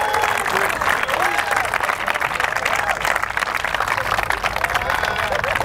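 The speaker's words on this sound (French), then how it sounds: "acclamons le Seigneur" A church congregation applauds and cheers. Dense, sustained clapping is mixed with crowd voices and shouts, loud and continuous throughout.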